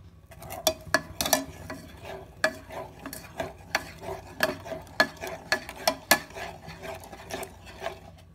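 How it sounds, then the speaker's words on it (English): A spoon stirring half a cup of milk with milk powder in a saucepan over a very low flame, rhythmic close scraping and clinks against the pan repeating about twice a second, no talking. "Keep on stirring this for 5 to 10 minutes on a very low"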